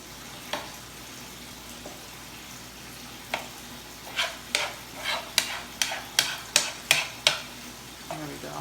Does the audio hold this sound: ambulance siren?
no